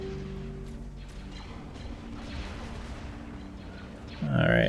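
Starship weapons fire steadily through a space battle in Stellaris, a continuous low rumble of distant blasts under a soft ambient drone, swelling into a louder burst at the very end.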